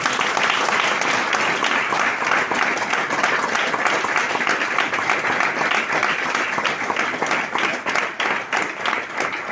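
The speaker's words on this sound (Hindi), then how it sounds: "उनके एक बार जोरदार तालियां बजाएं" Loud, dense applause from a workshop audience honouring tour achievers and gold coin winners, steady sustained clapping filling the whole stretch with no voices over it.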